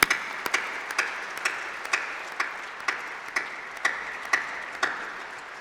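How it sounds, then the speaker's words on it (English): Applause from a graduation ceremony audience, a broad wash of many clapping hands heard from a distance, with a few sharper claps and thumps standing out at a steady interval through it. "Please give all of them a big round of applause."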